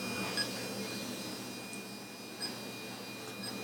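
Paranormal investigation equipment sounds a temperature alarm, a few faint, short high beeps spaced irregularly over a low steady hum in a quiet room.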